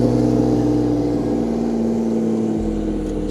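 A car with a steady mid-pitched engine hum rolls slowly toward the pits at the Magarigawa private race track in Japan, running at low revs close by, alone without talk.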